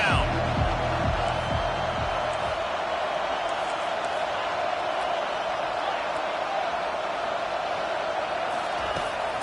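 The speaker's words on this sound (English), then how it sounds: "Decibels rising as the crowd gets behind this defense on 3rd down." A football stadium crowd roars steadily as the defense faces third down, a dense sustained wall of cheering with a few sharp thumps near the start and no clear talk over it.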